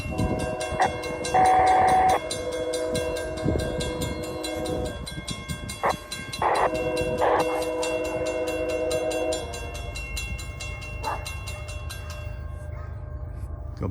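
A heavy CSX freight train rolls around a tight curve, sounding long horn blasts up close, then a steady rumble and wheel clatter that fades toward the end.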